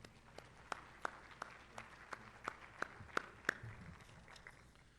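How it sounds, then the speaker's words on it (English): Scattered, faint hand claps from a chamber of commerce luncheon audience, sparse and uneven rather than a full ovation, heard in a quiet room. "Let's give them a big round of applause."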